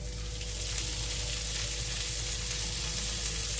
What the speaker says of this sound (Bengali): 150 গ্রাম সজনে ফুল ভালোভাবে ডাঁটা বেছে ধুয়ে রেখেছি, এবার গাওয়া ঘিয়ের মধ্যে দিয়ে দিচ্ছি।